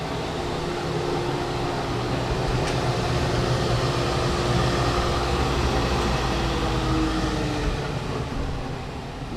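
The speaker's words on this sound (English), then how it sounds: "It's actually the dust collector that's running through it" A Rockler Dust Right 1.5HP dust collector runs steadily in a workshop, a continuous loud motor hum and rushing air drone with a faint whine, holding level throughout with no talking.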